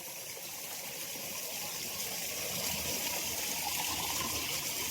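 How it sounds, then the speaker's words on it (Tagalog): Water running along a channel on a farm, a steady broadband rushing flow that holds evenly and close throughout with no voices over it. "Tingnan mo yung daanan ng tubig nila."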